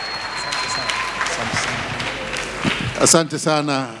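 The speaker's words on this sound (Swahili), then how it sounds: "Makofi mengi." Applause from a crowd of mourners at a funeral gathering, steady clapping filling the space before fading as a voice begins speaking over the last moments.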